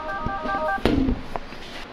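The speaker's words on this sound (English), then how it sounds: "My phone's ringing, I gotta go." A phone rings in a small screen-printing shop, a short electronic tone sequence in the first half followed by a louder clunk and rustle, with no speech.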